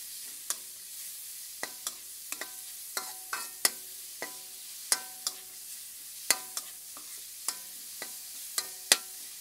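Pork stir-frying over medium heat in a pan, a quiet steady sizzle broken by frequent sharp scrapes and taps of a spatula against the metal, irregular and close, with no talking.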